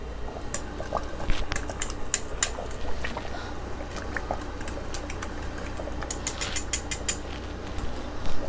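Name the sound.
whisking roux into curry oxtail liquid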